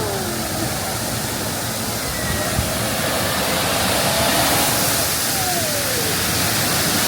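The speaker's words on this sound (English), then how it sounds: "Right under the waterfall." A waterfall roars right overhead on a spinning boat ride at Tokyo DisneySea, a steady, dense rush of water filling every moment without a break, loud and close with no voices standing out.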